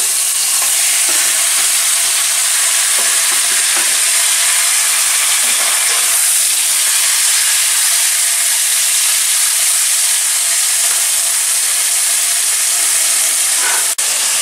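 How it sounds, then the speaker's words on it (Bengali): Marinated chicken frying in a pan with already-browned onions gives a steady, loud broadband sizzle with a hissing, steamy character, continuous throughout with occasional stirring scrapes and no talking. "এবার আমি মেখে রাখা ম্যারিনেট করা চিকেনটা এতে দিয়ে দিলাম"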